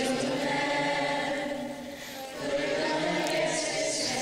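Thousands of layered vocal recordings blended into a dense choral bed, a sustained wash of many voices merging into a continuous, smeared harmonic texture with a brief dip in level midway, no individual words audible.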